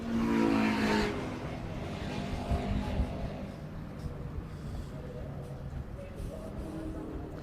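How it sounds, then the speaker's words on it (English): A race car engine at Donington roars loudly at first, then settles into an uneven, rough-sounding misfiring drone with crackles, while commentators talk over it throughout. "It's making all sorts of sounds, isn't it? It had a misfire in qualifying."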